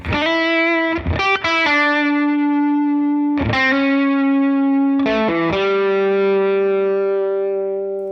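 A sustained, distorted electric guitar through a Helix Retro Boost tape-style modulation effect at default setting plays a few held chords and notes, with a slight wavering pitch wobble and a smeared, warbly tone.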